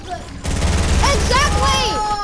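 Minigun fire in Fortnite, a dense, rapid mechanical stream of shots that starts abruptly and continues steadily, loud and close, with a voice shouting over it.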